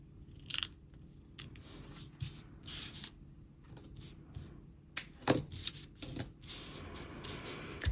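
Scissors trim paper in a planner layout with a series of short, crisp snips and light paper rustling, quiet and close, with small taps scattered between the cuts.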